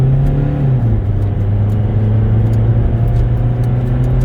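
A 2007 Toyota Corolla S with 300,000 miles drones loudly from inside the car, its pitch climbing then holding steady as it accelerates, with a constant road rumble beneath and a rattly exhaust.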